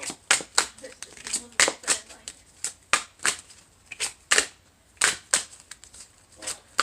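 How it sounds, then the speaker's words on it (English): Cards shuffled in quick, crisp riffling bursts, repeated in an irregular rhythm at close range, with brief pauses between bursts. "we're going to shuffle these up real quick"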